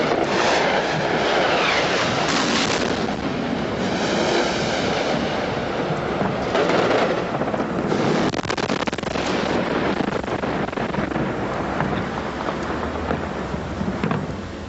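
A cruise missile explodes about 100 meters from a hotel during the 1991 Desert Storm air raids, heard from the sixth floor as heavy, rolling booms and rumbling blasts with roof gunfire, loud and sustained across the whole stretch.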